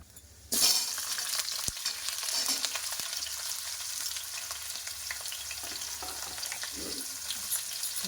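Onions hit a hot pan and burst into a bright, close sizzle that continues steadily as they fry lightly, with occasional soft stirring scrapes.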